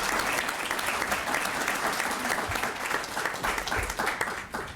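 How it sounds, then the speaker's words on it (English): An audience at a moot court state championship gives a round of applause for a team, with full, steady clapping that keeps going throughout and stays unbroken by speech. "a round of applause for Ben and the entire OCLR team that brought this all together"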